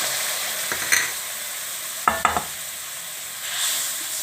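A spoon scrapes around a kadai as sugar and water are stirred together, giving a few distinct scraping strokes over a quiet, faintly sizzling background.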